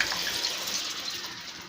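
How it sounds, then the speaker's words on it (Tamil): Tamarind water pours into crab gravy in a pan, making a continuous, fairly soft splashing and trickling stream that stays even throughout, with no talk over it. "அந்த புளி தண்ணியை ஆட் பண்ணுறோம்"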